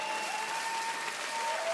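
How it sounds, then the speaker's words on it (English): Sustained applause from an audience at the Nintendo European Championships 2023 gaming tournament, a dense, even clapping wash with a faint tone running beneath it. "please give both these teams once again another round of applause and a cheer"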